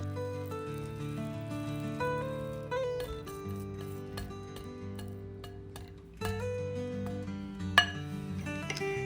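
Peanut butter cookie dough with all-purpose flour being stirred in a bowl, with a spoon or utensil clinking against the bowl in scattered light taps and a louder knock near the end, quiet and close.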